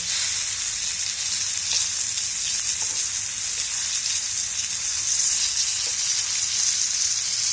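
Halibut pieces coated in rava frying in oil in a pan, a steady dense sizzle that holds evenly throughout with faint crackles, close and fairly loud, no voices.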